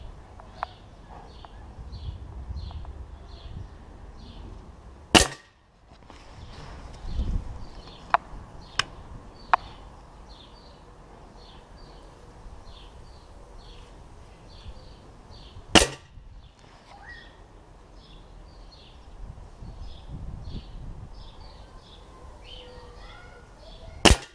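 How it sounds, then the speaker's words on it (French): Stoeger RX20 TAC Dynamic air rifle firing Stoeger X-Magnum pellets outdoors: three sharp, loud cracks spaced a few seconds apart, with a softer click or two between them and birds chirping steadily in the background. "Je vais tirer 3 plombs."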